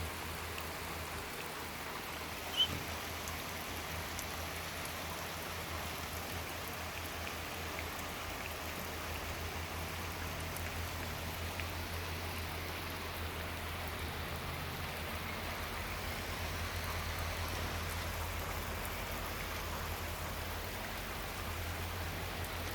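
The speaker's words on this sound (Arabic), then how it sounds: "شوف المطر سبحان الله." Steady rain falls in the Netherlands, a soft continuous hiss with faint drips and a low background rumble, even and unbroken throughout, with no voices.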